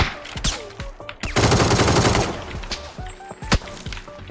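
Video game gunfire: a dense burst of rapid automatic shots lasting about a second, surrounded by scattered single shots and game sounds, loud and close.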